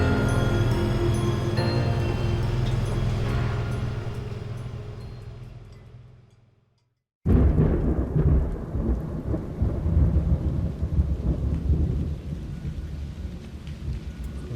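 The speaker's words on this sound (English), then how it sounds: "Rain, nothing but rain." Heavy rain and rumbling thunder on Mount Washington during a mountain hill climb race fade to a brief silence, then a loud crack of thunder bursts in over a dense, continuous downpour, with no talking.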